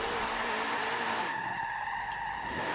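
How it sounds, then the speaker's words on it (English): A four-wheel-drive car spins donuts in the dirt in Forza Motorsport 7, tires skidding and squealing steadily over a droning engine, loud and close for the whole stretch. "do some celebratory donuts in the dirt"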